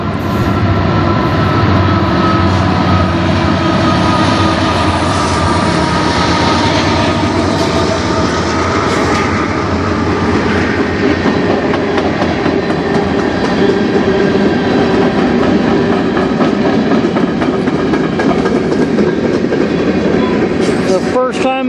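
A CN freight train led by four locomotives rolls past in Sarnia, Ontario, a loud, continuous rumble of engines and wheels with faint clicking and steady tonal hum throughout.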